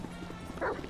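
A single short bark from a dog in Grand Theft Auto V, fairly faint, over a low game background hum.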